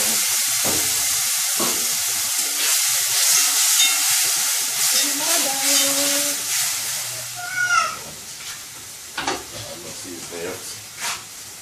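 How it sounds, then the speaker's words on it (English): Jamaican-style curry mango cooking in a pot, a steady close hiss and sizzle with stirring scrapes and light clinks of a utensil, easing toward the end as a few brief sounds break through. "And now I make it simmer."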